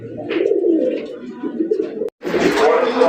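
Fancy pigeons coo repeatedly and loudly up close, rolling throaty calls overlapping one another, with a brief cut to silence partway before the cooing resumes even fuller.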